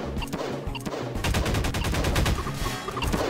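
Rapid bursts of blasts and impacts from grenades going off in Garry's Mod, dense and continuous with heavy low-end thumps, loud and close throughout.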